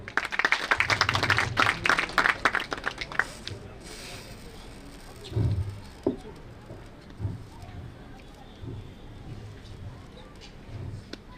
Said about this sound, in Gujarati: તાળીઓ વગાડો મિત્રો.